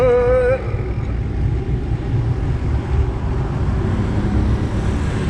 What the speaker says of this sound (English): I got like a bunch of traffic behind me now